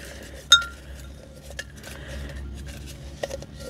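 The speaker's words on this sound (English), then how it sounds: "So sorry for the clinking of my rings on the, I'm just trying to like shuffle them around in here." Metal rings on fingers clink against objects while items are shuffled around, giving a few sharp bright clinks, one louder near the start and smaller ones later, over quiet rustling.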